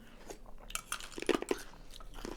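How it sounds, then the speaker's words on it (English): Ice being chewed close to the mic, a few sharp crunchy bites and grinding chews in an irregular rhythm, fairly quiet and alone without speech. "ice chewing ASMR"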